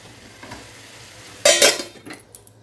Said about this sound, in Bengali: এটাকে এর সাথে ভালোভাবে নেড়ে নেড়ে মিশিয়ে নেব